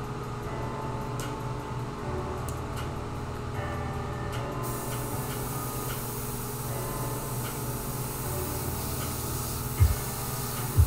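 An airbrush sprays paint onto an F-35 jet scale model: steady close hissing of air with faint ticking, the airflow changing partway through, no talking.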